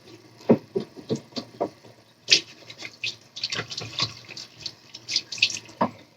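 Face is splashed and rinsed with tap water at a bathroom sink after applying coconut oil. Irregular close splashes and short bursts of running water repeat throughout, with no speech.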